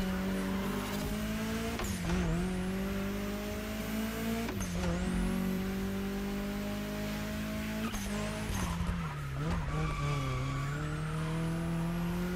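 A Honda Civic races in The Crew Motorfest, its engine droning steadily with repeated shifts and pitch dips, while tires squeal and skid through corners; loud and close throughout, with no talk.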